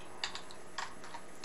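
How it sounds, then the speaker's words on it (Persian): Soft, irregular clicking of keys being typed on a computer keyboard, faint and close, with a few quick bursts of keystrokes. "این صدای کیبوردم اگه میاد ازتون عذر میخوام"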